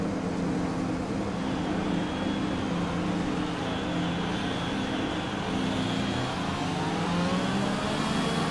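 Several F1 car engines rev hard together at the start of a race at Bahrain in F1 2020. The dense, high whine is loud and continuous throughout, with pitch shifting as the engines climb.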